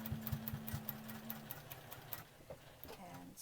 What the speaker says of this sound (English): sew a second seam just like a couple threads over